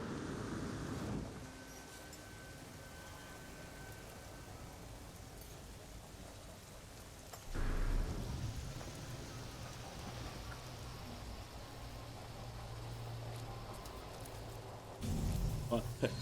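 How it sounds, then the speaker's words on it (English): Rain and a thunderstorm in the video game No Man's Sky: a steady hiss of rainfall with deep rumbling bursts of thunder swelling in twice, moderately loud, with no one talking. "Weather warning. Incoming storm."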